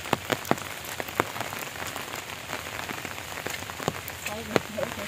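Heavy rain pours down in open countryside near farm fields, a dense close patter of drops on a surface broken by sharp louder drips striking nearby.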